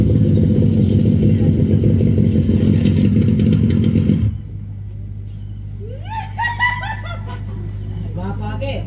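A motorcycle engine runs loud and close with a steady droning rumble, then cuts off abruptly, leaving a low hum while people talk and laugh.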